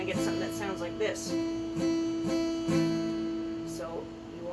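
A guitar chord strummed with fingers pressing too lightly, giving a buzzing, muted ring; several strums repeat over a few seconds, close and moderately loud with no talking.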